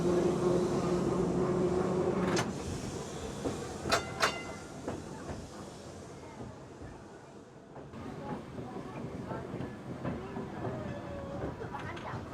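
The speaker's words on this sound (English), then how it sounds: "The tram rides take you through the village and out into the countryside" Heritage tram ride at Crich Tramway Village in Derbyshire: a steady rolling rumble with sharp rail clicks and metallic squeals along the track, a louder hum at first that settles lower, with faint voices in the background.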